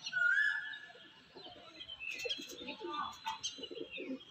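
Madras pigeons kept at a home loft coo softly nearby, their low throaty calls mixed with a few chirps and light rustling.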